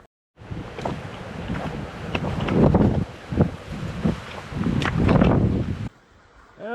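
Strong gusting wind buffets the microphone in rising and falling surges on the Pacific Crest Trail near Mt Laguna, loud and close, then drops off abruptly near the end.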